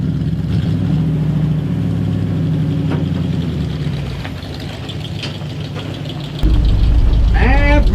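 Old truck engine revived after sitting 15 years, idling with a rough, knocking rumble under a voice, fading slightly mid-clip before surging louder near the end with a whining sweep.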